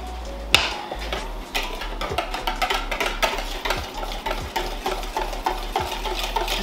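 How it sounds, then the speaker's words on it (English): A whisk stirs lemon square filling in a bowl, giving steady close scraping and tapping strokes with a few sharper clinks against the sides, no talk over it. "Just trying to gently whisk this to combine it all without creating lumps"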